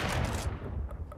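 A gunshot burst in Counter-Strike: Global Offensive, a loud close blast at the start that decays into a rumbling tail within about a second.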